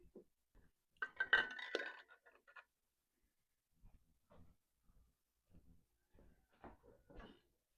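Glass canning jars clink and knock against each other in a kitchen, a cluster of bright rattles first, then several quieter, scattered taps with pauses between.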